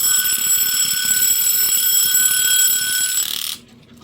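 Mini mechanical alarm clock ringing: a loud continuous metallic bell rattle for about three and a half seconds, then cutting off abruptly to quiet.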